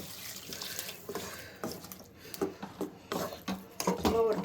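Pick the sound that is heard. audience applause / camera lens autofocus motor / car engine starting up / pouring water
pouring water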